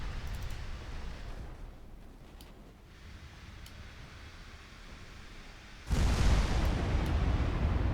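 Six-inch naval guns firing in a WWII strategy game, a continuous low rumble of distant bombardment that jumps to a louder, denser roar of blasts partway through.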